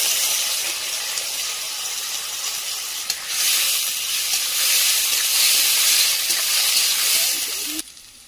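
Chopped tomato and slit green chillies hit a spiced tempering with chopped onion. A hissing sizzle swells after about three seconds and stays steady and close, then stops abruptly near the end.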